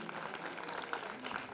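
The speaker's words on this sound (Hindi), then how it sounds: "जोरदार तालियां आकांक्षा के लिए।" Brief round of applause for a student honoured at a community award ceremony, a soft, scattered clapping from the audience heard at a distance.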